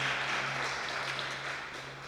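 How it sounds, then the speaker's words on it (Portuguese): A church congregation applauds during a live service, giving a short, dense burst of clapping that carries on evenly and fades a little toward the end, over a low steady hum. "dando para Jesus uma salva de palmas"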